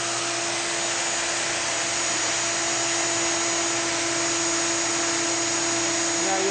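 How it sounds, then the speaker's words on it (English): A plunge-cut power saw running with its attached vacuum switched on, giving a steady, loud whining drone that holds evenly throughout with no pauses. "when we turn this on, the vacuum will go on also. And then we'll plunge right down into our cut."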